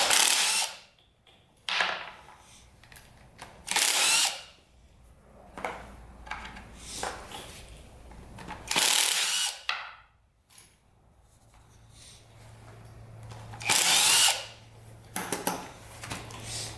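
Ratchet and hand tools work on removing the cylinder from a damaged Honda dirt bike, producing intermittent bursts of metallic clicking and clattering up close, separated by quieter pauses.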